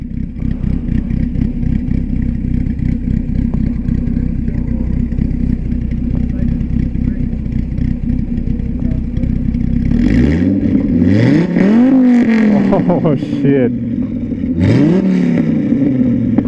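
A Dodge Viper engine of about 500 horsepower revs hard several times, sharp rising and falling roars close by after a steady idle, with a voice exclaiming.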